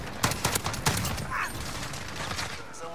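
An FAL rifle fires in Modern Warfare, a quick burst of four or five sharp, close single shots spaced a beat apart, followed by quieter game action and mechanical clicks.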